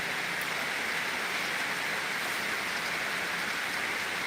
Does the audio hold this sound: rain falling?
yes